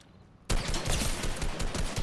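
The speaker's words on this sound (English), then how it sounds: "Shooting over there." Gunfire in the game Fortnite starting abruptly after a quiet moment, a dense rattle of rapid shots continuing loud and steady for over a second and a half, no talk.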